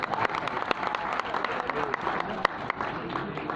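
Applause from an audience of staff in a university auditorium during a conference, dense continuous clapping with a few sharper claps standing out, filling the hall, with a voice briefly audible beneath.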